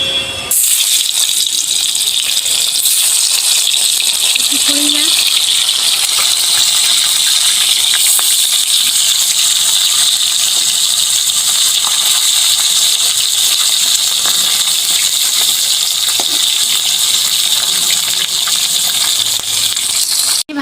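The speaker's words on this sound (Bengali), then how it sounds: "তেল গরম হয়ে গেছে, এবার আমি একে একে মাছগুলো দিয়ে দেবো।" Fish pieces frying in hot oil make a loud, continuous hissing sizzle that stays dense and unbroken for about twenty seconds, close by, with no talk over it.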